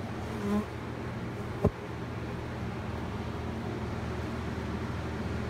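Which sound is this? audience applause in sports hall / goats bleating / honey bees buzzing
honey bees buzzing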